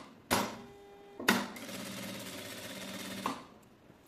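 A home sewing machine backstitches on a fabric pocket: a short burst of stitching, a sharp clunk, then a longer steady whirring run that stops, loud and close with no talking.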